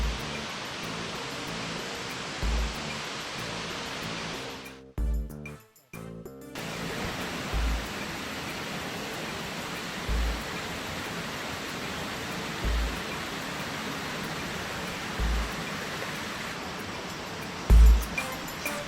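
At the end of a trail in Hana, Maui, a waterfall pours with a loud, steady roar, broken by a brief dropout partway through and by faint low bumps from handling.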